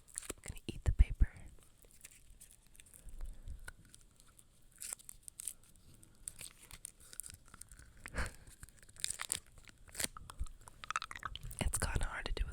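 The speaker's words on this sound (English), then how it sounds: "I'm gonna eat the paper." Close, quiet ASMR mouth sounds of someone chewing and tearing paper, with soft irregular crinkles, crunches and bites scattered between whispering.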